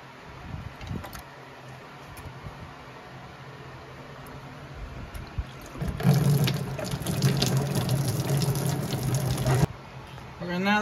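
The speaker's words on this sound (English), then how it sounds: "we're gonna lose some water and stuff. We got a drain pan down here to catch most of it" Coolant water pours out of a loosened hose on a Polaris Ranger 570 UTV and splashes into a drain pan. A steady, fairly close rush starts partway through and runs for several seconds before it cuts off.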